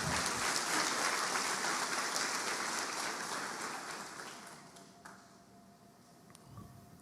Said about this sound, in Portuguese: Vamos aplaudir o Senhor por isso?